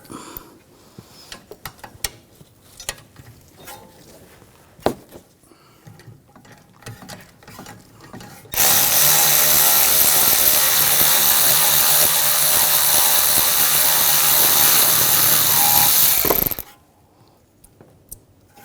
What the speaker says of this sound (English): using a 7mm hex socket, take the caliper pin bolts out. Loosen those up.